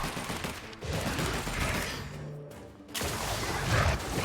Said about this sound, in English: He's shooting Sam in the back.